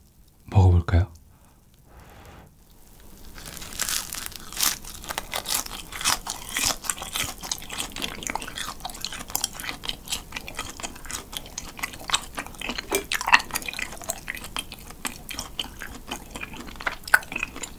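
Crispy grilled cheese being bitten and chewed up close, a dense run of crunchy, crackling chews after an initial rustle, with faint speech underneath.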